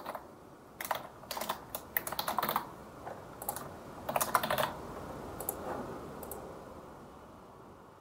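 Someone types on a computer keyboard, entering a name for a new urban model in planning software: irregular bursts of close, crisp key clicks over several seconds, then fading to quiet room hiss.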